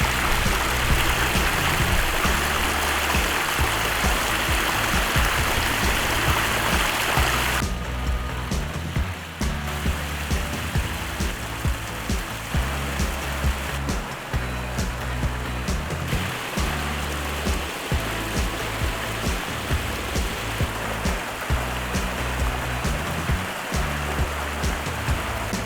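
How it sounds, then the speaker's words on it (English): A koi pond water feature runs with a steady, close wash of falling and splashing water, constant throughout with a faint rhythmic low thumping beneath it. "So right now that we have our water feature running"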